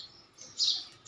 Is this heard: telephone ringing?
no